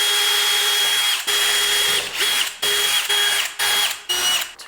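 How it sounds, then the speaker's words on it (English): A power drill runs in several short bursts, whirring loudly, stopping, then starting again in a rough, uneven rhythm. "I don't want to set up the drill press. I'm just gonna hand drill."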